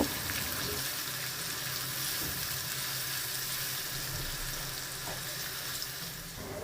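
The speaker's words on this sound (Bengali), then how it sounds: "এবার পেঁয়াজ রসুন এক মিনিটের মতো ভেজে নিব" Chopped garlic and onion fry in a pan, a steady close sizzle with faint stirring clinks throughout, no talking over it.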